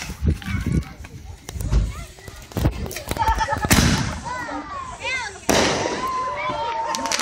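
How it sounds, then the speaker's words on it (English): Consumer 3000 aerial tube fireworks from a backyard Fourth of July display, sharp bursts and crackling launches popping repeatedly at close to mid range, with loud cracks and fizzing tails, while people talk and shout nearby. "this is, can't really see it, the 3000 aerial tube from Wind of Fireworks"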